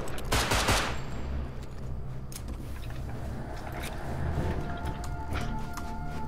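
Gunfire in the survival video game Rust: a dense burst of rapid shots near the start, then scattered single cracks and sporadic shots over a steady game background with no talking.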